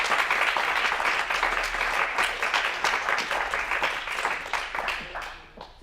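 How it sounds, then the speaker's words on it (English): An audience at a live workplace talk on menopause gives a sustained round of applause, dense steady clapping from many hands that carries on and gradually thins toward the end. "I hope everybody will join me in a round of applause for everybody"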